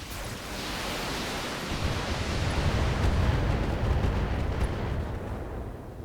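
Mech weapons unloading in Battletech, a dense, roaring wall of rumbling blasts and explosive noise swelling and sustained for several seconds, loud and heavy with no talking.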